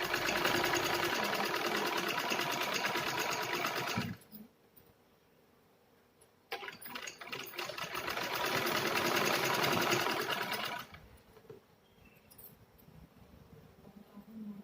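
A sewing machine stitches a 1.5-inch fabric strip as piping onto pockets, running in two steady bursts of several seconds each with a quiet pause between, close and fairly loud.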